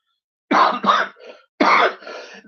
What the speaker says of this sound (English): Excuse me, this cough tonight.